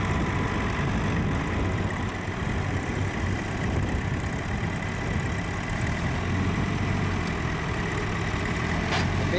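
A tractor engine labors steadily while hauling another stuck tractor out of sand at Hest Bank, a continuous low rumble that sits close and dominates throughout with no talk over it.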